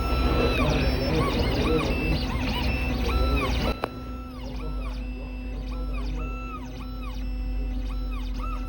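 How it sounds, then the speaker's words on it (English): A Dolphin XP005 key machine cuts a Pontiac Grand Prix transponder key with steady, rhythmic electronic whining and motor hum. A sharp knock comes partway through, and then the tone steps down and settles into repeating patterns. "We have our transponder key that we're gonna cut."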